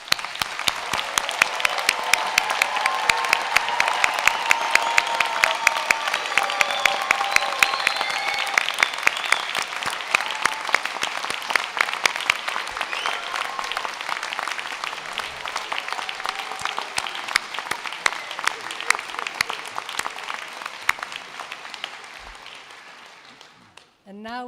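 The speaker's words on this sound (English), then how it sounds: "Please, can I ask you to join me in a round of applause?" Graduation ceremony applause at the University of Salford's School of Arts, Media and Creative Technology: a large hall of people clapping in a long, steady, dense roar that slowly thins before fading out near the end.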